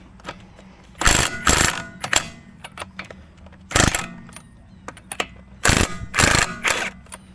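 A wrench works on a car's front brake pad bolt, giving bursts of loud ratcheting clicks in several separate runs with quiet pauses between them.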